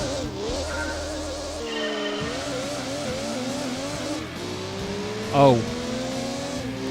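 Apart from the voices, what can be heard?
race car gear changes in Gran Turismo 2 video game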